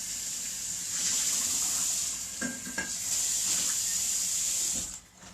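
Running water hisses steadily as a kombucha brew jar is rinsed out, with a few faint knocks and clinks of the jar under the flow before it cuts off.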